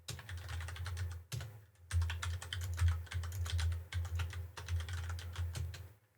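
Close, rapid clatter of keys as a login is typed on a computer keyboard, in several quick bursts separated by brief pauses, with no voices.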